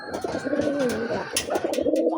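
Rajgolla pigeons coo in a loft, several soft throaty calls overlapping close by with faint rustling around them.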